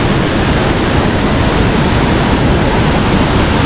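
A waterfall's rushing water fills the air with a loud, unbroken roar, a broad steady wash of noise heard close by with no speech over it.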